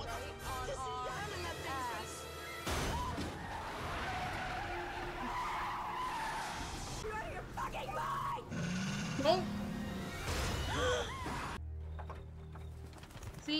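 A car in a movie skids and is run off the road, with tire squeal and scraping mechanical noise under intermittent talk, fairly faint overall.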